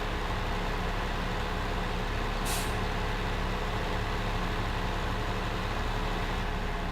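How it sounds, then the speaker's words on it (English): Tractor engine from the video game Farming Simulator 15, a steady low drone running throughout with one brief hiss, heard alone without talk. "all you're going to see here is the sound of the tractor"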